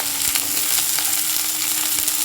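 Small chopped brinjal pieces fry in hot oil with a steady, loud, crackling sizzle and occasional sharper pops throughout, close by and without talk.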